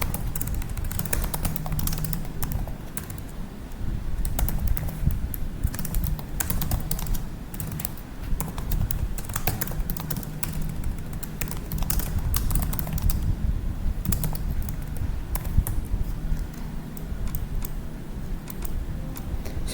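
Fingers type rapidly on a computer keyboard, a dense and continuous patter of close key clicks with irregular bursts and brief pauses, unaccompanied by speech.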